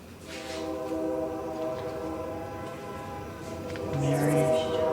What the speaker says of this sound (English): That was the train, right?